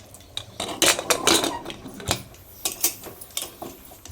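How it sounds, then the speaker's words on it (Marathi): A metal lid being fitted onto a pressure cooker holding mutton soup, giving a series of close clinks and scraping metallic clatters, a few spaced knocks after the first cluster. "आता याला आपण झाकण लावूया।"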